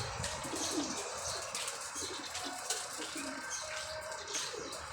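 Racing pigeons being readied for a summer derby, soft cooing mixed with occasional wing flaps and light bird chirps, moderately quiet against a steady rustling background, no speech.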